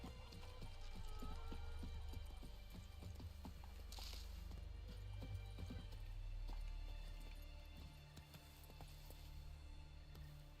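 Horse hooves clop steadily in The Witcher 3 as the player's horse runs, a regular galloping beat under game ambience and music, moderately loud and continuous for about ten seconds.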